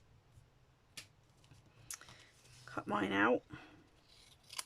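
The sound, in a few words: scissors cutting out a stamped paper greeting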